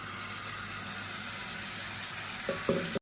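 Onions sautéing in a pan for a South Indian onion thokku, giving a steady close sizzle and frying hiss throughout, with a couple of brief stirring knocks near the end.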